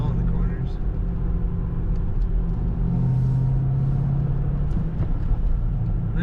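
Steady low engine rumble and road noise heard from inside a 2005 Ford Mustang GT Premium convertible on the move, a constant drone that stays even throughout, with talk over it.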